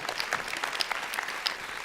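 Brief burst of audience applause at a televised quiz show in Kyrgyzstan, greeting a correct answer, steady clapping from a modest studio crowd with no voices over it.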